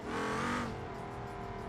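Engine of a twin-turbo Tesla in the BeamNG Drive driving game revs up loud for about half a second, then settles into a steady droning hum.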